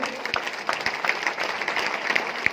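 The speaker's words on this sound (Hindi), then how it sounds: "हम चाहेंगे तीनों अचीवरों के लिए एक बार हाथ उठकर जबरदस्त तालियां आप लोग बजा दें।" An audience claps for three achievers, a moderate and fairly steady patter of many hands with a few sharper individual claps standing out.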